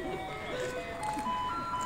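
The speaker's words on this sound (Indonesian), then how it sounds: "Nah itu kayaknya suara mobil sampahnya udah kedengeran ya." A Taiwanese garbage truck plays its steady electronic melody from a distance as it approaches, the tune faint and sustained beneath low street ambience.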